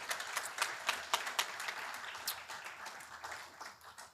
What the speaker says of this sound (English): So please give her an applause because she earned it.